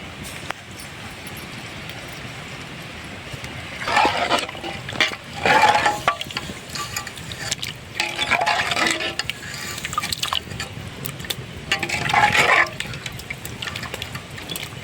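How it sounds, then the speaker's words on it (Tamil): Ground masala paste from a grinding stone is poured into a pot of traditional mutton curry, giving close wet glugging and sloshing bursts over a low simmering background, with no talk. "அப்புறம் அரைச்சி வச்ச இந்த மசாலாவும் உள்ளே ஊற்றிக்கலாம்"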